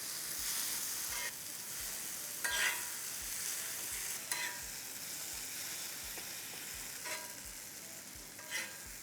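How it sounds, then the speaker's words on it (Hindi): Thick paneer masala seasoned with salt and red chili powder sizzles in a pan for dhaba-style paneer khurchan. A spoon scrapes and stirs in a steady rhythm about once a second over a constant frying hiss. "इसे हम भून लेंगे।"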